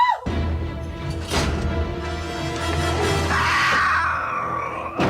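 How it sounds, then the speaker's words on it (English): A loud, shrill screech rises and holds steadily in the second half, over a constant low hum. "Oh, he's screeching."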